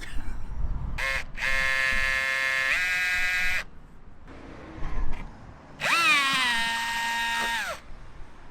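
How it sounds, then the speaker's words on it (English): Two bursts of a cordless power drill drilling holes in a van, close and loud, each spinning up, holding a steady whine, then stopping, with brief clunks between. "Nothing worse than drilling holes in another man's van"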